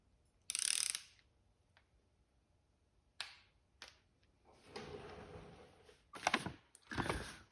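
Torque wrench ratcheting while tightening camshaft install bolts on a Chevy small block during an engine rebuild; a burst of ratchet clicks, then scattered sharp clicks and a few short rasping ratchet strokes, fairly quiet.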